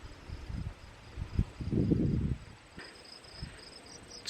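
Crickets chirp at night at a quiet rural crash site, a faint, regularly pulsing high trill running through the clip, partly covered by louder low rustling and handling sounds.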